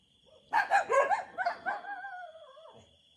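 A dog barks and yips in a short burst of several sharp calls that trail off into whimpering, heard at night with a steady high electronic tone from a thermal camera beneath.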